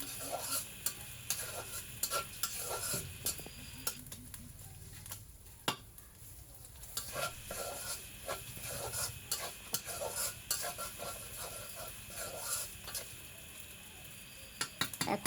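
Ginger, garlic and cumin paste cooking down with beef in a pot, a steady sizzle broken by frequent scraping and stirring of a spoon against the pan, close and busy throughout with brief quieter pauses.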